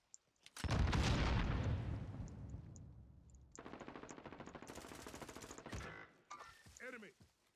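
Heavy video-game gunfire during an online squad match: a loud, dense burst of automatic fire opens, then fades into a steady rapid rattle of shots, with brief voice fragments near the end.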